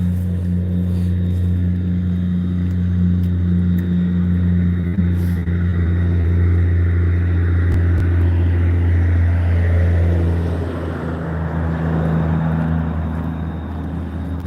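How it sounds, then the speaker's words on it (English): A loud semi truck rumbles past on a road in Middletown, Ohio, a deep steady engine drone with strong low hum that swells and then slightly eases as it goes by. "Semis are loud."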